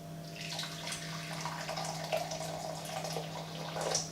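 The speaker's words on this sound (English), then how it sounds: "So I'm just going to put some of this boiled water in here." Boiled water is poured steadily into a container for homemade wine, giving a continuous splashing, trickling rush with a low hum underneath.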